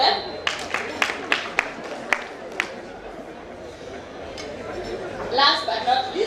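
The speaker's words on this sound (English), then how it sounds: "Let's clap for them." Audience at a sports club centenary celebration clapping for the club staff, a burst of scattered, distinct claps in the first few seconds that thins out into crowd chatter and murmur.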